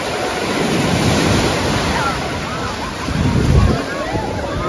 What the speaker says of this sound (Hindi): देखो कितना ऊंचा लहर उतरा वहाँ पे।